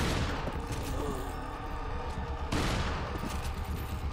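Gunfire in a video game, a dense volley of shots with a sharp louder blast midway, set against constant game noise; no talk.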